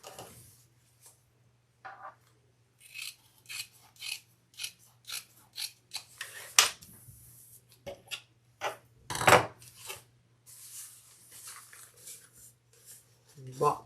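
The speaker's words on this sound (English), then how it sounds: "I'm just trimming the sides except for that top piece" Scissors snip in a steady run of short, crisp cuts while trimming the sides of a leather crossbody handbag, a low constant hum beneath and occasional louder clacks.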